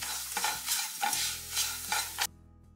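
Semolina roasting in a pan for Kerala thari kanji, stirred with a spoon in a series of scraping strokes over a soft dry sizzle, close and fairly quiet, ending abruptly.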